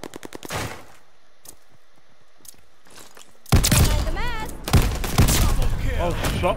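Shotgun blasts in a Search and Destroy match of a first-person shooter video game, with a few sharp shots early on. A dense, loud burst of gunfire and game effects follows midway, with people talking over it.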